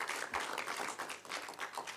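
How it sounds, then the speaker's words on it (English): A live audience at a university research indaba applauds their master of ceremonies, a steady wash of many hands clapping at moderate distance, fairly quiet and without voices. "We can give our host, MC of the day, just a round of applause"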